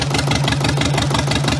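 A Jabiru aircraft engine idles at about 700 rpm, a steady, close, even throbbing rumble with no voices over it.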